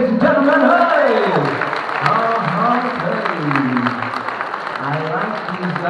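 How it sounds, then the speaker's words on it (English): An audience at a live Western art performance claps under a man's loud, animated talking, the applause a dense background patter while his voice dominates. "Let's give a round of applause, ladies and gentlemen."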